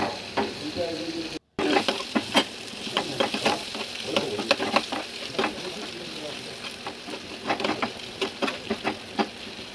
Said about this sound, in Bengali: এবার আমি কর্নটাকে দিয়ে দিচ্ছি।